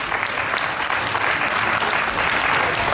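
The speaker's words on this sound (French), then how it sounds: "on peut effectivement d'ores et déjà applaudir la réélection de Marie-Georges Buffet" An audience at an inauguration applauds Marie-George Buffet's re-election, a dense, steady roar of many hands clapping at close range, sustained evenly throughout with no talking over it.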